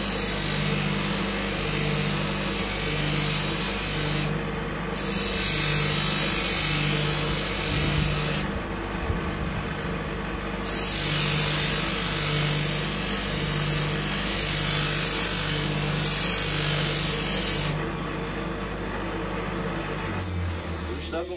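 A continuous grinding, rasping drone of a sanding machine as a knife blade is pressed against it for sharpening, with a steady motor hum throughout.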